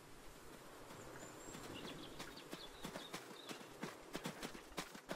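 A horse in a video game clip-clops along in a steady rhythm of hooves that grows louder and more distinct toward the end, with faint rustling and birdsong behind.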